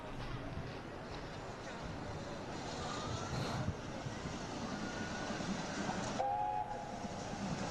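A train rumbles past close by, a low, continuous roar that swells slightly, with a brief tonal squeal or horn near the end and faint voices under it.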